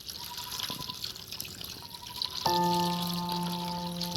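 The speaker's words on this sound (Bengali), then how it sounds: "এবার দেখুন বন্ধুরা, আরও জল দিয়ে দেবো।" Water poured into flour dough in a bowl, a steady trickle and splash that swells and becomes fuller and louder toward the end, with no talking.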